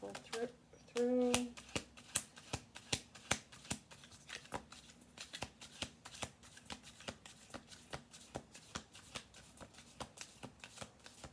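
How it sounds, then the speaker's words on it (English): A deck of tarot cards being shuffled over and over, a steady run of quick riffling snaps up close, with a short hum near the start. "One more shuffle through."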